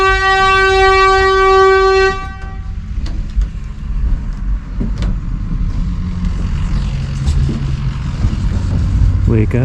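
A vehicle horn honks outside in one steady, loud blast lasting about two seconds, then gives way to a low rumble of engine and road noise.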